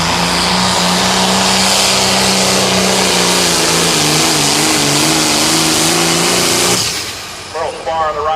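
An 8,500-pound limited pro stock pulling tractor roars off the line at a Mound City, Missouri pull, its engine a loud, steady, high-powered drone for about seven seconds before dropping away as a voice comes in over it.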